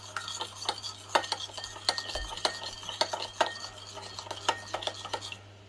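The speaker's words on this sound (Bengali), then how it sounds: "এন্ডারে মিক্স করা হইল" Eggs, two of them, being beaten in a bowl with a utensil for a breakfast chicken wrap, giving quick, irregular clinking taps and scrapes against the bowl, close and fairly soft, with no talking.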